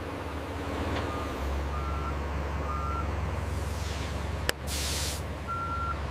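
A truck reverses on a construction site, its backup alarm giving short, evenly spaced beeps over a steady low engine rumble, with a brief hiss of air partway through; no one speaks.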